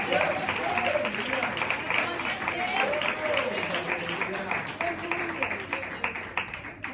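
Loud congregational clapping fills a Pentecostal church service, many hands beating together in a thick continuous roar while voices sing or call out above it.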